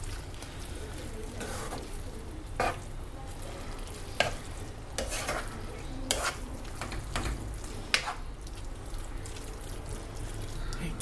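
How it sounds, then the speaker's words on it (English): Cooked pasta is stirred in a frying pan, giving a soft continuous sizzle with intermittent spoon scrapes and clinks, fairly quiet overall. "Just give it a good mix and..."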